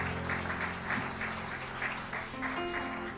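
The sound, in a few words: congregation applauding during online church service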